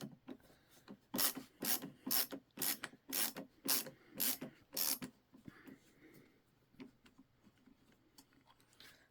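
A Milwaukee ratcheting screwdriver with a #2 Phillips tip backs a metal screw out of a slightly cracked workpiece: seven loud, evenly spaced broadband ratchet clicks, followed by quieter scattered ticks and rubbing as the screw loosens.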